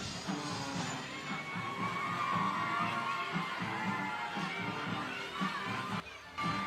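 Dense, steady roar of a packed crowd in the stands at a Friday night high school football game, with scattered shouts, whoops and children yelling throughout, dipping briefly near the end.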